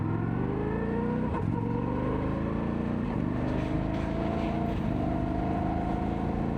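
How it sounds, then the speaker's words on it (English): A 2026 Indian Sport Scout RT motorcycle accelerates hard through the gears. Its loud, close engine climbs in pitch, drops at each of about three shifts, then climbs again with no talking. "Let's just do a roll on to 100 and just go through the gears"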